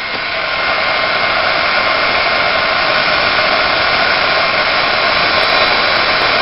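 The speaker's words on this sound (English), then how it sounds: "The heat gun's really hot, so be careful." Hot heat gun melting embossing material for scrapbooking, a loud, steady, unbroken blowing roar like a hair dryer, close and constant throughout, no talking.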